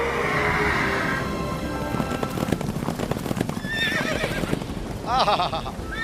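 Cartoon horses pull a chariot with busy clip-clopping hooves over a rumbling background, then give sharp neighs and whinnies near the end.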